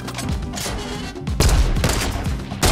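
Gunfire in a squad-based video game, with a dense, loud, steady stream of rapid shots and a heavier burst partway through, close and continuous with no talking.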